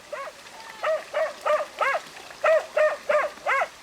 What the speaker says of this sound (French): Il est gueulard comme le maître, le chien